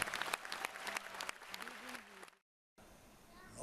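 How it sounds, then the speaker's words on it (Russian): An audience breaks into applause for poet Yevgeny Yevtushenko, crisp clapping with a voice sounding over it, then a sudden cut to silence before a faint, quieter room tone returns. "ваши бурные аплодисменты Евгений Евтушенко"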